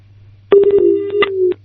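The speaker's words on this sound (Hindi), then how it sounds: "फोन कट गया, लगता है दोबारा टेक्निकल प्रॉब्लम।" Telephone line tones on a live phone-in call as the caller drops off: a steady hum, then a sustained tone broken by several sharp clicks, ending abruptly.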